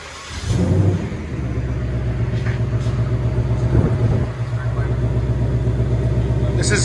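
A Ford Mustang GT V8 with factory stock exhaust starts and idles close by, a deep, throaty, steady rumble with a brief rev around the middle, loud and alone.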